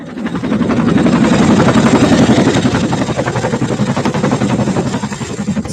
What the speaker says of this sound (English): the CH-47 Chinook is an American twin-engine heavy lift helicopter